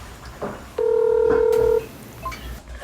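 A smartphone placing a voice-dialed call gives a single steady electronic tone lasting about a second, loud and close, with faint room noise before and after.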